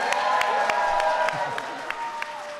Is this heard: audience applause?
yes